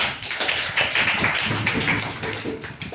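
A classroom of students claps for the winner of a maths grid game, a steady dense patter of many hands at close range that fills the whole stretch, with faint voices underneath.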